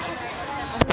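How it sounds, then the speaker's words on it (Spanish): Fireworks burst in Chile as a sharp pop and a second thud near the end of a second of steady crowd and ambient noise. "Eso ha sido el video de los fuegos artificiales en Chile"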